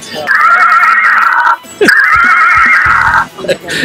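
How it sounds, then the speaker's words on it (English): A Mustang's car horn at a car show sounds a loud whinnying horse neigh in two long bursts with a short gap, followed by brief clatter. "It's a horse."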